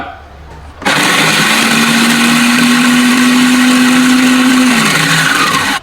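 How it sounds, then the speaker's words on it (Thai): A blender blending a dipping sauce of garlic, coriander root, salt, lime juice and fish sauce starts abruptly and runs steadily at a loud, even whir for several seconds, then winds down near the end. "ก็ปั่นไม่ต้องแรงนะครับเนี่ยแบบนี้เนี่ย"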